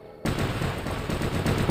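A robot's gun in the War Robots video game lets off a dense, loud burst of rapid automatic fire that starts suddenly and rattles on without a break.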